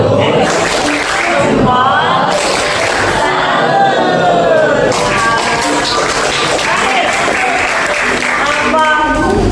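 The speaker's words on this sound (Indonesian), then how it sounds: "Tepuk tangan buat tim B" Applause for team B at a teachers' training group presentation, a steady wash of clapping from a crowd that runs the whole time, with voices talking over it.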